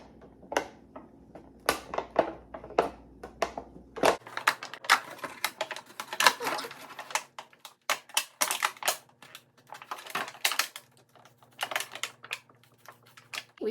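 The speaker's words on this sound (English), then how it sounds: "I've got some scissors. I'm just going to make a couple of little slits." Irregular crisp snipping and crunching of scissors cutting slits in a thin plastic seed tray, a series of sharp clicks and crackles up close, with no voices.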